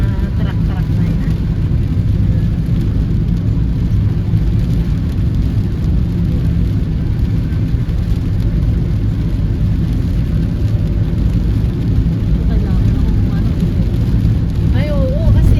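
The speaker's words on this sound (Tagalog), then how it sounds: "Mga truck na yan." Heavy trucks roar past on a road in a dense, continuous low rumble of engines and tire noise heard from close by, with people chatting over it.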